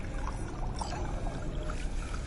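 Water poured into a glass in the game Cyberpunk 2077, a steady splashing trickle lasting a couple of seconds over a soft background hum.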